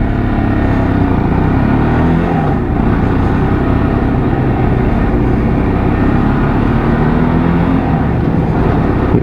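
A lorry pulls away through early morning traffic, its low engine rumble steady and loud throughout, with a dense wash of road and vehicle noise and no voices.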